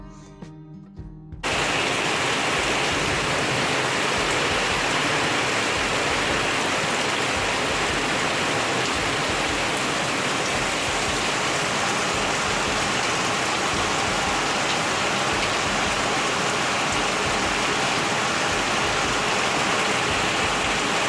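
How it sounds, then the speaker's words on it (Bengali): Heavy rain pours down onto a flooded courtyard, a loud, dense, steady roar of water that starts abruptly after a quieter moment and continues unbroken, close and without any voices. "পূজা সেরে উঠতে না উঠতেই তুমুল বৃষ্টি পুরো উঠানে জল দাঁড় করিয়ে দিয়েছে দেখুন"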